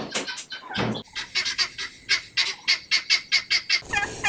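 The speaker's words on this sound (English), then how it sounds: "we have free range chickens" A flock of free-range chickens roaming on a homestead, giving loud, repeated gobbling squawks in a steady series of bursts, close and without speech.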